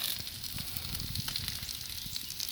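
Sausage links and potatoes cook slowly on a Blackstone griddle with a steady, even sizzle and soft crackle, close and continuous throughout.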